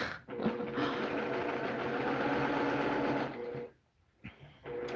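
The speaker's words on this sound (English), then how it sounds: "the Brother machine is really nice. It's a workhorse" A Brother domestic sewing machine does free-motion quilting, its rapid stitching whir steady and close. The motor halts briefly near the end, then starts up again.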